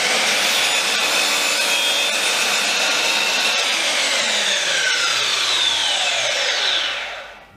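Decking boards are cut to length with a power saw, a loud, close and continuous whine of the blade biting through wood. The cut lasts about seven seconds and the pitch falls away as the cut finishes, with no talk.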